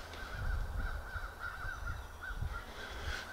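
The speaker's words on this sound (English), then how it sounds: "the crows are going nuts over there" Crows cawing noisily off to one side during a Pennsylvania spring turkey hunt, repeated harsh caws over a steady outdoor hiss, moderately distant and without talk.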